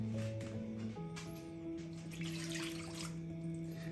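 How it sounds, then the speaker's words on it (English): Vinegar poured into a pan heating on medium for ginataang tulingan, a steady liquid splash and trickle running throughout over a faint background hum. "I'm gonna put my vinegar first"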